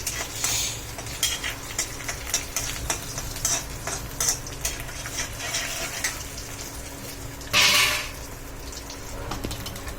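Cardamom, cloves and whole spices sauté in oil for a broccoli gravy, making a continuous soft sizzle broken by frequent clinks and scrapes of a stirring spoon, with one louder burst near the end.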